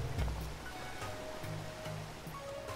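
Continuous rushing water surrounds the scene in The Legend of Zelda: Breath of the Wild, a steady wash like a stream or waterfall with faint tonal game sounds layered over it.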